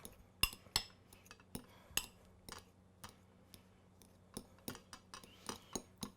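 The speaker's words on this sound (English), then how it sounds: "take my hard-boiled eggs, smash these down a little bit" Hard-boiled eggs being smashed in a bowl for deviled eggs: a series of separate, sharp clinks and taps of a utensil against the dish, spaced irregularly, fairly close and with no talking.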